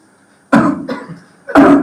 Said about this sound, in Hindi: मुंह खोल खांसी,